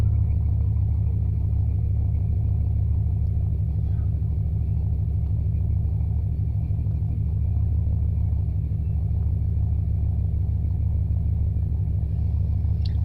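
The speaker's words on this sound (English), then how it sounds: "Let's try to crank it up. Oh, look at that. She started right up." A 1992 Dodge Dakota engine idles steadily after starting, a low continuous rumble heard close and alone throughout, with no talking over it.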